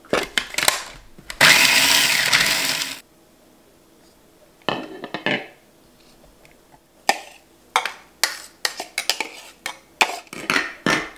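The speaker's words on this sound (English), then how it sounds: "I'm going to use my garlic scapes in a little mini food processor." A little mini food processor chopping garlic scapes: a loud whirring burst, a quiet pause, then a series of short pulsed bursts with rattling and clatter, growing more frequent toward the end.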